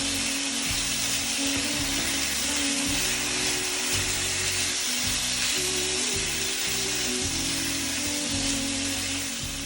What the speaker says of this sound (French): On mélange et on laisse cuire un peu les épices.